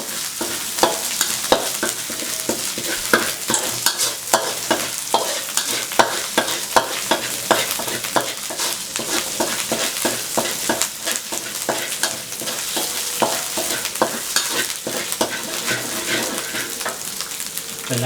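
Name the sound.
stir-frying spicy pork ribs in a pan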